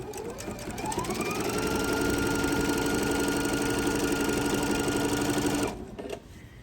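A sewing machine stitches a tree skirt in one steady, loud run of rapid needle strokes lasting several seconds, then stops abruptly near the end, leaving a quiet tail.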